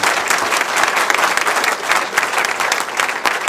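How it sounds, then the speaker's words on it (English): An audience at a Kangen Water business presentation breaks into loud, sustained applause, many hands clapping densely and evenly for several seconds. "Let's give all the 6A's a round of applause"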